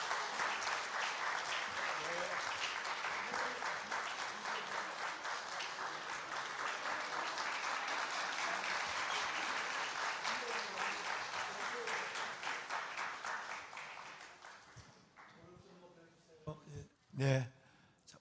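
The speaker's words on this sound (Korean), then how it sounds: "우리 박수로 환영하겠습니다." A church congregation at a Christmas service applauds to welcome young children coming forward, a dense, even clapping that fades out after about fifteen seconds, followed by a few thumps and brief talk.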